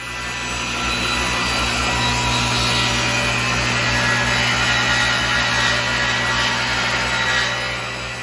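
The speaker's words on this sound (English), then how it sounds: "The solid wood is actually easier to cut than the plywood, and ultimately, the cut was fairly easy." A table saw rips through solid wood against the rip fence, giving a loud, steady whine with a broadband rasp that holds for several seconds. It fades in at the start and eases off at the end, with no voices.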